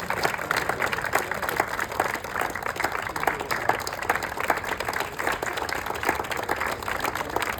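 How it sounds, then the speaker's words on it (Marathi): Audience applause for a cycling association at a public event, a steady dense clapping from a crowd that holds at an even level throughout without breaks. "खूप जोरात टाळ्या वाजूया सायकलिंग असोसिएशनसाठी."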